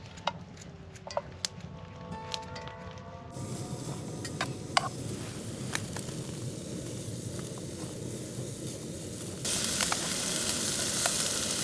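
Bacon sizzles in a hot pan with a steady crackling hiss, dotted with sharp pops and the odd clink of a utensil, and it grows brighter and louder near the end.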